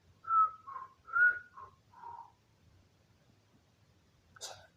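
A sequence of five short, clear whistled notes heard during a Clash Royale game session, wavering in pitch with brief pauses between them, followed by quiet and then one sharper, higher burst near the end.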